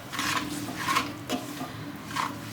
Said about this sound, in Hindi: इसमें सारे मसाले डाल के मैं मिला लेती हूँ